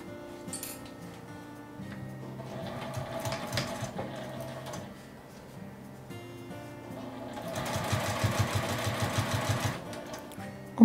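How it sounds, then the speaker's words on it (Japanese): Sewing machine stitching the folded edge of a fabric pencase, with rapid close mechanical chatter in bursts that builds to a longer, louder run near the end. "さっきと同じように縫い代を表側に倒して端を縫います。"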